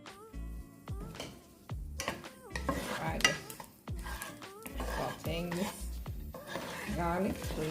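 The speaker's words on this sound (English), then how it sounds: "We're going to be putting in the garlic." Garlic sizzles in vegetable oil in a saucepan: a steady frying hiss runs under a speaking voice, punctuated by scraping stirs and clinks of a utensil against the pan.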